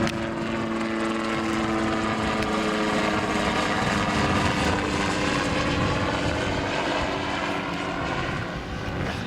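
A CH77 Ranabot ultralight helicopter powered by a Rotax 914 engine runs steadily, giving a loud, continuous droning engine and rotor roar that holds without letup, with no talk over it.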